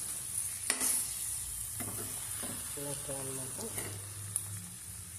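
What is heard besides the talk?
eggplant, drumstick and mango pieces sizzling in tempering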